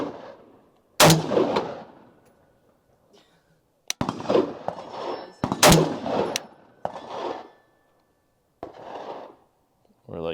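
Pistol gunfire at a shooting range, two loud sharp shots cracking close by with a few fainter clicks and handling sounds between them, while people talk throughout.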